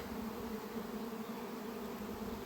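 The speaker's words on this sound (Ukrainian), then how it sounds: "Вітається рій." A honeybee swarm hums steadily around a hive, a dense, continuous buzz of many bees close by, holding an even level throughout with no voices.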